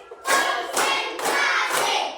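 A class of students claps together on a teacher's count, producing a few distinct bursts of group clapping, each a loud, briefly sustained clatter separated by short gaps.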